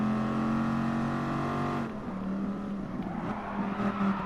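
A race car engine screams at high speed in Gran Turismo Sport during a beginner league race, a steady, tonal whine that abruptly shifts pitch midway and carries on with a rougher, fluctuating note.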